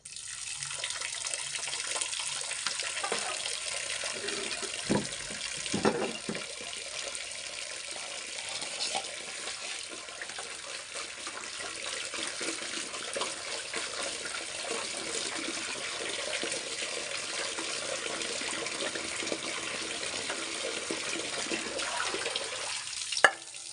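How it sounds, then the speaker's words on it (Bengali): Fish being rinsed under a running kitchen tap, a steady faint rush of water for over twenty seconds with occasional splashes and soft knocks against a bowl. "মাছগুলো আমি ধুয়ে নিচ্ছি"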